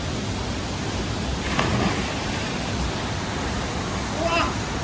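A large waterfall roars as a steady, broad wash of falling water that fills the whole clip, with faint scattered voices beneath.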